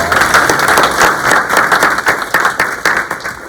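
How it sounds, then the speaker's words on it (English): A loud, close burst of clapping from an audience at a downtown marketing workshop in Mississippi, with individual hand claps audible in an even, energetic patter throughout. "Y'all give her a round of applause."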